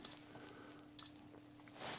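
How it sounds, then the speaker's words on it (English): Three short, high electronic beeps from a KAPRO 985D digital level sound about once per second, clear and close, over a faint steady hum, indicating level is reached. "the beeping indicates that we've achieved a level"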